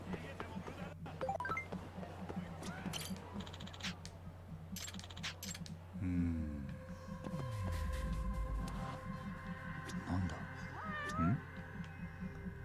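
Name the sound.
cat meowing in the video game Judgment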